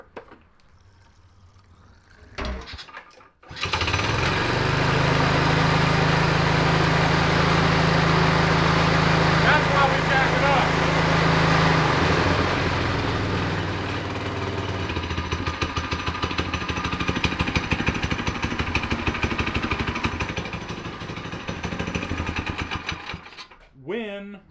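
A Manco Dingo go kart engine running after being cranked, a loud, steady, raspy small-engine drone that carries on for about twenty seconds and then cuts off, with a few quieter sounds before it starts.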